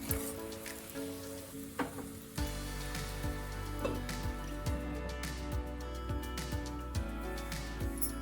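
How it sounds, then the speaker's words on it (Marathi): Steady sizzling and soft crackling from moong dal batter pan-roasting in a hot aluminium wok, continuous and close, with faint scraping and occasional clicks over a low hum. "ह्या बाजूने आपल्याला पाच मिनटं भाजून द्यायचं"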